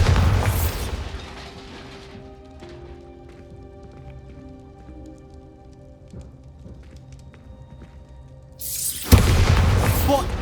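A Bombarda spell blasts in Hogwarts Legacy: after a stretch of quiet ambient tones, a loud, sudden broadband explosion bursts in near the end and rumbles on, with an earlier burst of noise at the start.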